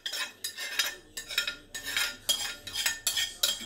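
A utensil scrapes cooked turkey and onions out of a pan into a crock pot, giving a run of separate rasping metal strokes, close and fairly quiet, each stroke followed by a brief pause.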